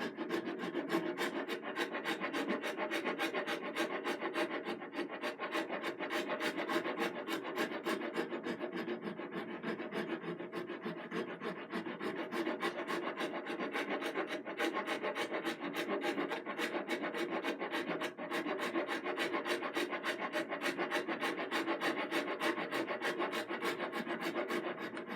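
A hand file rasps across a piece of wood in a workshop, stripping off its outer skin in fast, steady back-and-forth strokes that run on continuously and fairly close.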